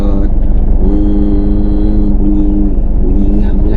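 A car engine hums and revs during on-road driving practice, a loud steady drone with rising and falling pitch, up close inside the cabin.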